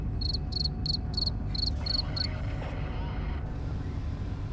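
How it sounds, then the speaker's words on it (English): Crickets chirp in the video game Crysis 3 Remastered, a series of rapid, evenly spaced high trills in short bursts over a steady low ambient rumble, then fading out. "We don't need crickets in the system, though."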